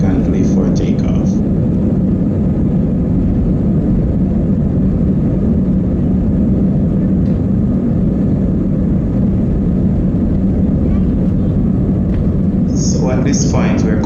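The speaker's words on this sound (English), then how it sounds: "The plane begins to accelerate rapidly and you could feel yourself being pushed back into your seat as it increases in speed significantly for takeoff." A passenger airplane accelerates down the runway for takeoff, a loud, steady cabin roar and engine rumble filling the whole stretch, with a few faint clicks near the end.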